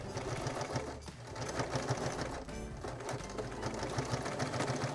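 Sewing machine stitching back and forth over the end of elastic on a fold-in fitted cloth diaper, a steady rapid mechanical whir and needle chatter running loud and continuous throughout.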